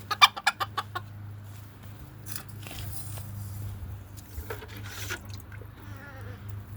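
A bantam rooster and hens cluck close by, a quick run of sharp clucks at the start followed by softer scattered clucking and pecking.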